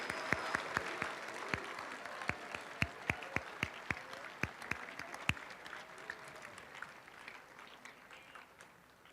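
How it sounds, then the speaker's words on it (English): A round of applause at a 2023 National Honor Society induction ceremony: scattered, fairly distant individual claps, sparse and uneven, thinning and fading out over several seconds. "So go ahead, let's have one more round of applause."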